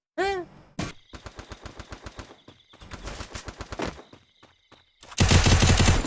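Automatic gunfire crackles in the battle royale game Free Fire: rapid bursts of shots in quick rhythmic strings with brief pauses, ending in a louder, denser close-range volley.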